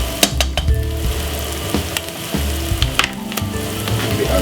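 Curry king prawns with everyday and all-purpose seasoning sizzle and fry steadily in a pan, with intermittent scraping clinks of stirring throughout.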